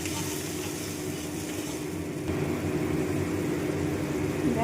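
Spice paste frying in hot oil for a Bengali tel koi fish dish, a steady dense sizzle that grows slightly louder midway, close up with no talking.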